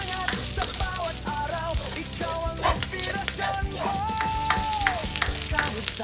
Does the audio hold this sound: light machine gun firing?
no